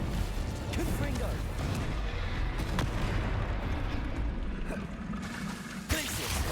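Confringo explosive spell cast in the video game Hogwarts Legacy: repeated blasts and bursts over a continuous bed of game noise, with a sharper crack near the end.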